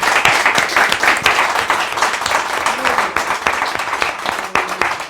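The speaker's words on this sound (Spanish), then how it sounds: "Yo creo que se merece un aplauso después de todo." Audience applause after a book talk, loud, close clapping with individual sharp claps standing out, continuing steadily with faint voices underneath.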